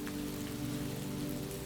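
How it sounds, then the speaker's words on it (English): Steady rain tapping on a window pane on a rainy night in Boston, a soft continuous patter with fine drops, even and unbroken throughout with no voices. "Rain still tapped lightly on the window pane, creating a gentle metronome for his thoughts."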